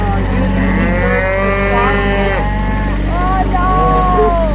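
Angus cows on a Texas cattle ranch low and moo loudly and repeatedly, their long drawn calls overlapping at close range above a steady low rumble.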